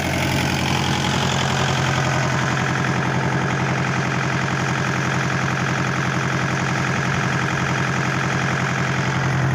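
A farm tractor engine idles steadily on a horse farm at feeding time, a loud, continuous low rumble with an even rhythmic throb and no speech.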